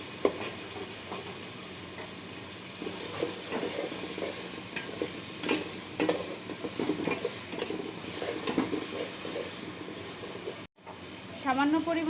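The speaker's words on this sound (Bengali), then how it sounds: "চিংড়িগুলোকে এখন তেলের মধ্যে একটু ভেজে নিব লাল লাল করে।" Shrimp frying in oil in a pan for a bottle gourd and shrimp dish, a quiet crackling sizzle with scattered stirring scrapes and clinks, rather faint, ending in a brief cut and a short sputter.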